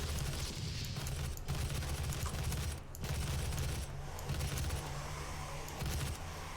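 Rapid gunfire from the DOOM 2016 video game in the Lazarus Labs level, dense repeated blasts and mechanical clatter over a steady low game hum, continuous for several seconds with brief gaps, no voices.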